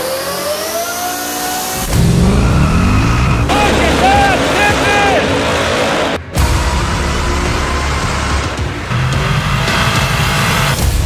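Deathtrap race car engine rumbling and revving as it is pulled out of the shop, a loud, steady roar that dips briefly partway through before climbing again, with voices talking over it.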